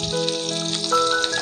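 Crushed garlic and chopped onion dropped into hot oil with cumin and mustard seeds for a Maharashtrian patrichi bhaji: a steady close crackling sizzle with fine spattering, no voices over it.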